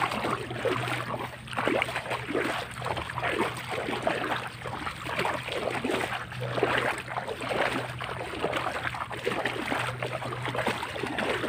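Floodwater swirls around a boat during a flood, a steady wash of rushing, lapping water with a low hum running underneath, continuous and fairly close for the whole stretch.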